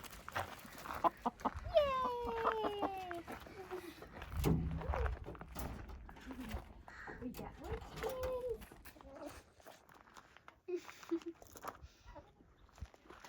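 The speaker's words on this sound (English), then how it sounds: "Those are your chickens." Backyard farm chickens clucking and a rooster calling at moderate distance, with people talking over much of it and occasional knocks, outdoors on a farm.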